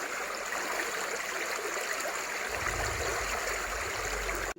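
A river stream flows over stones at the riverbank, a steady, close, rushing and bubbling wash that never lets up, with a low rumble entering partway through; no voices.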